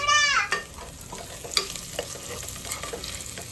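Onions and ginger-garlic paste frying in a pressure cooker for a country chicken curry. A steady, moderately loud sizzle runs throughout with stirring scrapes, and a brief whining tone sounds at the very start.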